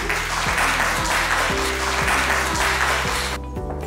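Loud, steady applause from an audience at an achievers award ceremony, with a sustained low musical tone running beneath it, fading slightly near the end.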